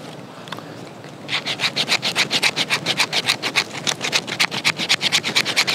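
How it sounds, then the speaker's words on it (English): Scandi grind blade of a budget small fixed-blade knife scraping along fatwood, a steady run of rapid rhythmic rasping strokes starting after a quiet second and continuing close and loud, with no talk. "It's not scraping the fat wood very well either."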